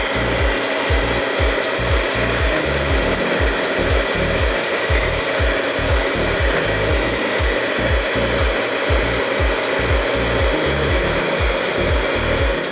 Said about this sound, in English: I'm gonna turn on the hand mixer and slowly add.